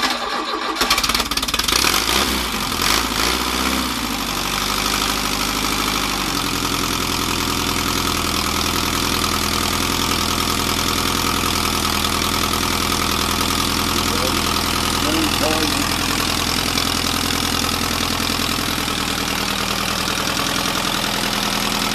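A 1969 Ford Capri engine cranks briefly and fires, then settles into a loud, steady, close idle that runs unbroken to the end.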